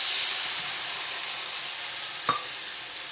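Onions fry with soy sauce in a pan on a turned-down stove, a steady bright sizzle and hiss with one brief utensil tap near the end.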